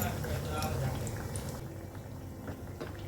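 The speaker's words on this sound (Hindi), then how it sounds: "तो इसको बिल्कुल स्लो आंच पे फ्राई करेंगे" Sweet tikki fry in oil over a slow flame, giving a steady, dense sizzle close by while someone talks over it.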